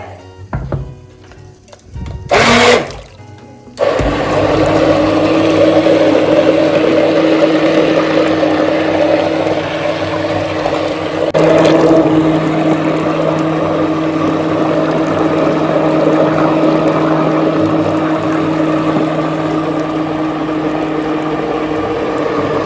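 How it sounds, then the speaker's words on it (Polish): A hand blender purrs steadily as it purées mushroom soup with cream into a smooth mass. A brief clatter comes first, then the motor hums at an even pitch for nearly twenty seconds. "Teraz ją zblendujemy na gładką masę."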